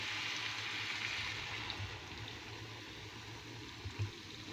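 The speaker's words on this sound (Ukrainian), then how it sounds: "Я також додаю звичайну мінеральну воду." Mineral water pours steadily into a pan holding meat and a little fat, a continuous soft watery hiss at close range with no voices over it.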